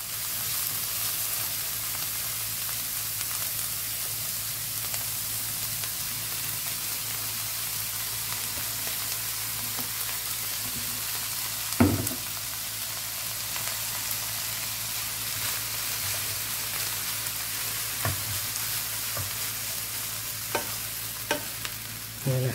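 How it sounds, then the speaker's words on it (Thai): Vegetarian glass noodles being stir-fried in a pan give a steady, close sizzle with scattered scrapes and knocks of stirring, and no one talks. "พอผัดได้ที่นะครับก็ลงวุ้นเส้นลงไปนะครับ"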